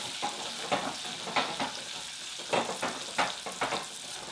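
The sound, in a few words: stirring ground coriander in a pan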